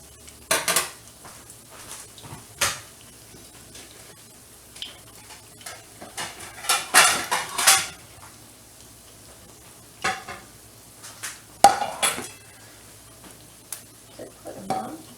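Cinnamon French toast cooking in a pan, with scattered clinks and scrapes of a utensil against cookware and a low sizzle underneath, in bursts separated by quieter stretches.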